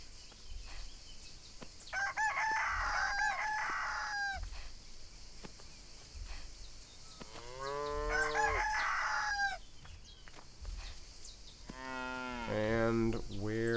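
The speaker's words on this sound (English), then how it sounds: "there's still two more chickens out here." Farm animals in the video game Everdream Valley: cattle mooing and a rooster crowing in several loud calls spread across the stretch, over a steady ambient background with no talk.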